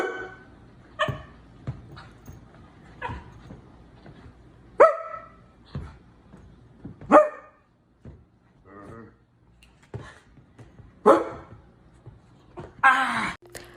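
A person imitates a dog barking at a pet dog, giving a series of short, loud bark-like yelps spaced irregularly, with some faint sighing and whining sounds between them, close to the microphone.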